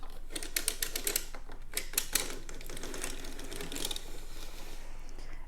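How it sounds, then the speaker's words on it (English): A hand-cranked circular sock knitting machine clatters through a row, giving fast, steady mechanical clicks and ticks in rapid rhythmic bursts, close and clear with no talk. "On the first row, you just lift a needle and crank around."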